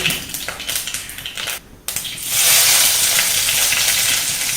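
Curry leaves drop into hot oil with mustard seeds, bringing a loud, steady sizzle close up that swells after a brief pause and keeps frothing, with some scraping and crackling before it.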